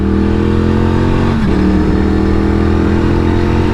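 A 2023 Norton Commando 961 SP motorcycle engine pulls hard on the road, its loud, steady drone swelling as the bike accelerates, with no talking over it.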